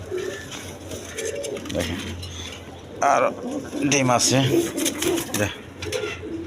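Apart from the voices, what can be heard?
Garra pigeons cooing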